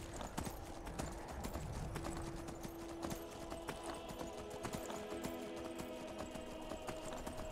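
Horse hooves clip-clopping in the video game Skyrim, a steady rhythmic galloping beat with the creature's snorts and ambient game sound, no talk over it.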